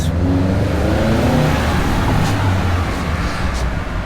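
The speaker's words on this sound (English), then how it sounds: "they have noisy cars here too, as far as I can tell" A car engine roars and revs nearby on a street in Breckenridge, Colorado, loud and steady for a few seconds, with faint traffic noise around it.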